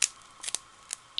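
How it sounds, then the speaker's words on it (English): Sharp scissors snip paper for a handmade Stampin' Up! birthday card, several quick crisp cuts close by in an uneven rhythm with no talk. "Cut another piece here. Cut that in half."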